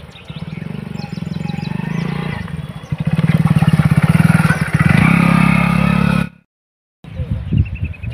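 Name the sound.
motorcycle engine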